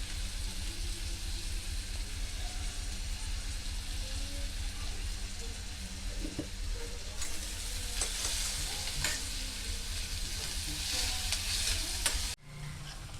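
Chopped onion and tomato with salt sautéing in a pan, a steady close sizzle with occasional stirring scrapes throughout, ending in a sudden drop near the end.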